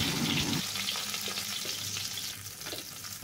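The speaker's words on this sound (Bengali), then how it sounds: "এবার ওই তেলে কালো জিরে ফোড়ন দিয়ে" Nigella seeds tempering in hot oil left over from frying, during a Bengali fish curry with potatoes, giving a steady loud sizzle with light stirring and a few pops, no talking.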